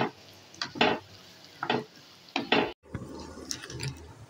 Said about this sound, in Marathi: असो ऑनियन आहलो तो घाता आनी हळी बरो करून फ्राय करता